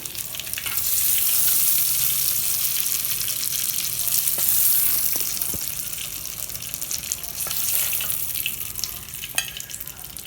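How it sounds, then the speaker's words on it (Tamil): Mustard, cumin and fennel seeds fry in oil in a kadai with a continuous loud sizzle and scattered crackling pops, with no talking. "அதில் கடுகு ஜீரகம் பெருஞ்சீரகம் மூணும் போட்டிருக்கிறேன் இந்த மூணும் நல்லா பொரியட்டும்"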